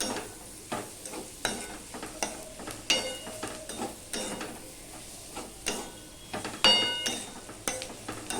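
Bottle gourd peel fries in a pan with a soft steady sizzle, broken by repeated scraping and clinking strokes of a spatula at irregular intervals, close up.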